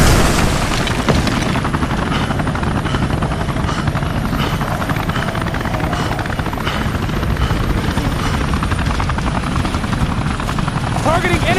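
A helicopter in the shooter game Modern Combat 3 roars steadily and loudly for about twelve seconds, its rotor thrum mixed with booming explosions and battle noise.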